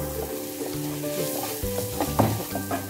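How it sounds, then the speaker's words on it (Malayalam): Spicy chicken filling sizzling and frying in a pan while being stirred, with steady close sizzle and repeated scraping, clattering strokes of the spoon against the pan. "അത് നമുക്ക് നന്നായിട്ട് ഇളക്കിയെടുക്കും"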